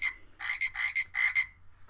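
A toy frog from a baby-section store shelf plays a bright, electronic chirping tune in bursts, close and clear, with no voices over it.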